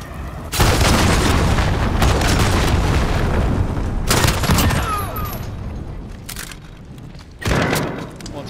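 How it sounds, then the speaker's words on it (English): Cruise missile strike in the Call of Duty: Modern Warfare multiplayer game: a sustained heavy booming rumble with bursts of gunfire layered on top, loud and near, fading slightly before another sharp blast near the end. "Allied cruise missile away"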